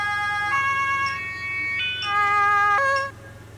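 Police car siren in the video game Teardown, a loud electronic wail switching between stepped tones, close and alone with no talk, before cutting off near the end.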